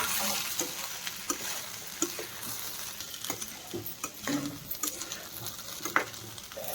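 Baby corn Manchurian stir-fries in a pan with a soft, steady sizzle, broken by irregular scraping and tapping from the stirring utensil against the pan. The sound stays fairly quiet and close, with no talking.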